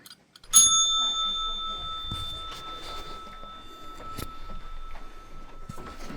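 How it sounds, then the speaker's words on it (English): A single bell at an employees-only counter in a town hall in Ridgefield, Connecticut rings out sharply and close, its bright tone sustaining and slowly fading while faint clicks and shuffling follow. "Please ring the bell."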